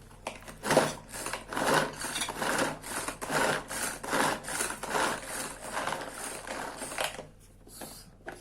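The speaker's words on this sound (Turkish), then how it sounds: "Şimdi bunu da iyice küçücük doğrayalım." Steady, rapid knife chopping of onion finely on a wooden board, regular rhythmic strokes close up, continuing for several seconds with a brief pause near the end.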